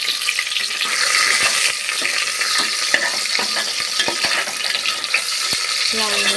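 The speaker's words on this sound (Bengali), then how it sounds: "লাল লাল করে পেঁয়াজটা ভাজবো ভালো করে।" Onions frying in hot oil with bay leaves in a pan, a loud, close, continuous sizzle with frequent scraping and stirring clatter throughout.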